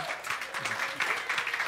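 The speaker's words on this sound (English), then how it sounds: "A lot of clapping going on." Congregation clapping during a Sunday church service, a steady wash of applause from many hands that stays fairly even and continuous, with a few voices faintly mixed in.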